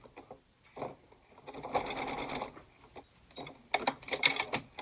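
A sewing machine stitches quilt blocks together in short, uneven runs of rapid mechanical whirring and clatter, close up, separated by brief pauses.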